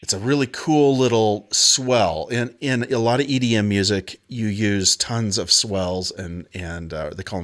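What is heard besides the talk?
No distinct noise like a dog, phone or traffic.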